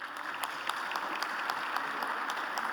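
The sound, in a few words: audience applause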